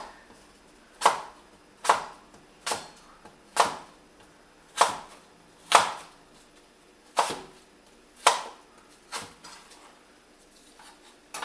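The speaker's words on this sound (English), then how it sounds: "Just cut it finely." A knife chopping food finely on a cutting board, sharp distinct chops in an uneven rhythm of about a dozen strikes, close and clear with quiet gaps between them.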